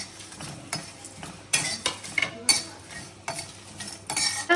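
Cumin, black pepper and garam masala dry-roasting in a pan for a Bengali hilsa curry, with repeated scraping and stirring clinks of a utensil against metal and a faint crackle underneath, close and moderately loud.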